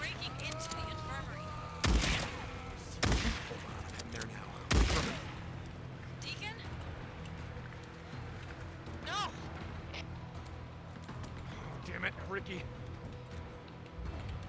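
Gunfire erupts in the Days Gone video game, three sharp loud shots spaced about a second apart followed by fainter scattered pops, with people talking over much of the stretch.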